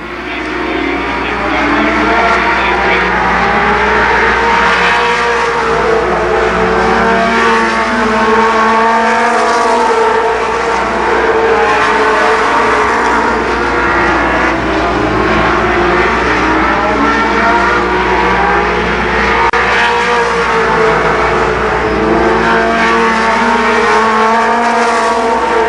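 Race cars roar continuously around Columbus Motor Speedway during a 1992 Legends car race, several engines droning and shifting pitch as the pack circles close by, with an announcer talking over the engine noise throughout.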